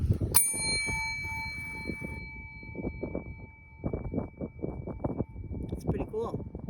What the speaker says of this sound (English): they just says ring the bell for service